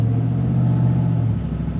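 A vehicle with a GM 6L90 six-speed automatic transmission drives in first gear, giving a steady, loud low engine rumble with a strong low tone that eases slightly near the end.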